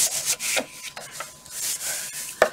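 A scoring tool is drawn along paper on a scoreboard while making a candy bar box, giving a series of dry rubbing scrapes in short strokes, close and moderately loud, with a sharper tap near the end.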